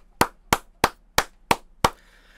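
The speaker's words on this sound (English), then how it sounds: "Let's give a clap for Rhaenys." Six sharp, evenly spaced hand claps, loud and close, from a person watching House of the Dragon in a reaction setting, with a brief ringing tail after the last clap.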